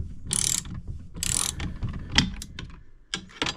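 A wrench ratchets on the mounting bolts of a Warn winch being installed on a Talon, with close, loud bursts of metallic clicking in several separate runs, alone.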